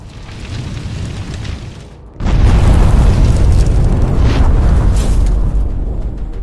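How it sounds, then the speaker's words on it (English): A huge explosion of mine-clearing charges on a Russian tank bursts in after a short lull, then a sustained, roaring rumble of fire and blast noise that stays loud to the end. "The ensuing fire reached the charges and produced a massive explosion."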